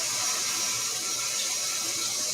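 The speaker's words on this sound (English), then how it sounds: "the first thing we're going to be cutting up is going to be our potatoes. And again, I'm going to wash those really well." Tap water runs steadily into a kitchen sink while potatoes are washed and scrubbed before cutting, a continuous close hiss with no talk over it.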